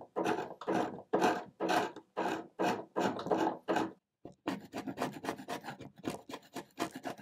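Hand scraper pulling old shellac finish off a wooden desk down to bare wood, a run of rhythmic rasping strokes roughly twice a second, close and crisp, then a brief pause and quicker, denser scraping.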